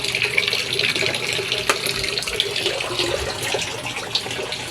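A catfish tank empties with a loud, constant gush of running water, like a tap pouring into a basin. The flow stays close and unbroken, with a few small splashy spikes and no talking.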